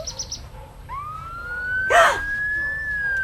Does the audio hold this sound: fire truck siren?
yes